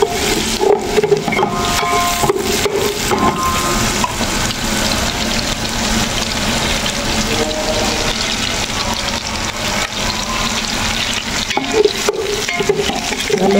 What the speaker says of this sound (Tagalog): I-brown muna natin ng konti yung sibuyas